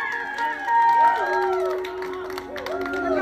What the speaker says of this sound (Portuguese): Salva de palmas aí, pessoal.